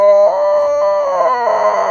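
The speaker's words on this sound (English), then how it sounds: "and it let out a howl of agony." A cursed creature lets out a loud, drawn-out howl of agony, a wavering, tonal wail that holds steady for about two seconds with no other voices.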